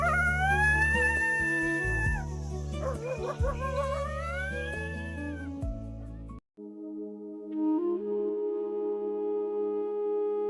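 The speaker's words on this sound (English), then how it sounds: "Coyote." A coyote lets out a series of rising, wavering howls and yips, overlapping and close, lasting several seconds before a brief gap and a steadier, quieter drawn-out howl.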